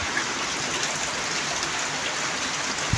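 Continuous rain falling in rural Punjab, a steady broad hiss of drops pattering on surfaces, unbroken and moderately loud, with no voices.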